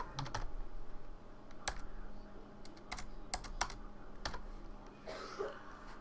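Keystrokes on a computer keyboard while entering commands in Minecraft, sparse clicks in short bursts with pauses between them, quiet and close, with no talking.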